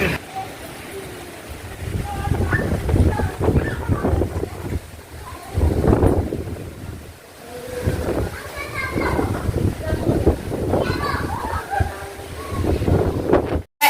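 Strong wind gusting across a rooftop at night, roaring and buffeting the microphone in loud waves throughout, with people talking over it.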